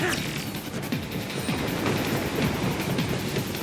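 A moving train in the video game Metal Gear Rising: Revengeance, a loud continuous rumbling roar with rattling, clanking metallic knocks, heard close and alone.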